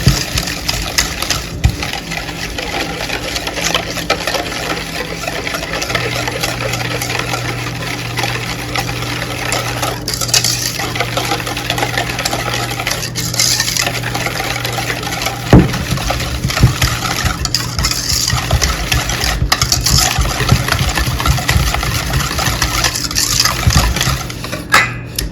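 An electric mixer whirs steadily for a long stretch, blending liquid ingredients for a sugar-free cake in a bowl, a continuous motor drone with occasional clinks and scrapes against the dish and no one talking.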